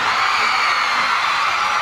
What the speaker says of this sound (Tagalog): Mga babae, sumigaw ngayong gabi